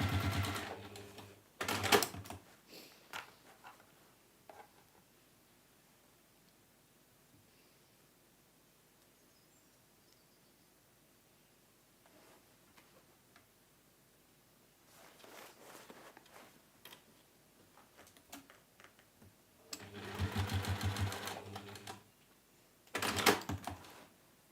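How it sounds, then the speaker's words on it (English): A sewing machine sews pouch seams in several short bursts, a couple early and a longer run near the end, close and loud, with fabric rustling and quiet gaps between. "So I'm just sewing these with a seam allowance that's less than 1/2 inch."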